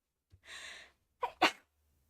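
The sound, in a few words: sneeze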